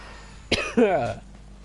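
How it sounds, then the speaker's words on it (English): A single close cough, sharp and throaty, followed by a brief throat-clearing rasp, then quiet. "Oh, I just needed a cough there."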